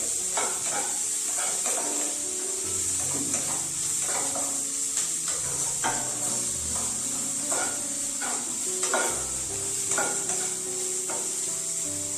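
Onions frying in a pan give a continuous bright sizzle, with regular knocks and scrapes of stirring throughout, close up and steady, no voices.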